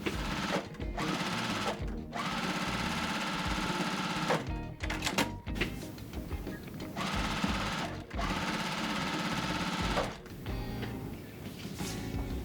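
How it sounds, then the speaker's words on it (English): A sewing machine stitches quilt blocks together in long rapid whirring runs, broken by brief pauses between seams, close and steady with no talking. "I'm going to just go ahead and sew these blocks together and finish off this quilt"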